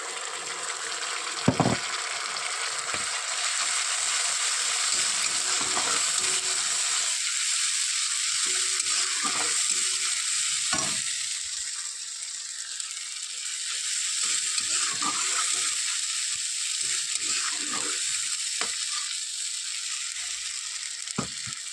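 Onions that have turned reddish fry in a pan as spices are added for a fish dish, a steady broadband sizzle running throughout with scattered scraping and stirring clicks, no voices.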